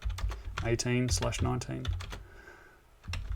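Quick clicking keystrokes on a computer keyboard patter in a short burst beneath a person speaking close by.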